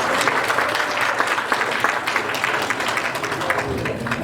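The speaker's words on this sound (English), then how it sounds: "That's a round of applause." An audience at a Lunar New Year celebration dinner applauds, a dense, steady round of clapping filling the room for several seconds.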